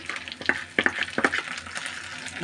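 Boiled dabli chickpeas fry with onions, green chilies and salt in a pan, a soft sizzle under irregular scraping and stirring strokes, fairly close, with no talking.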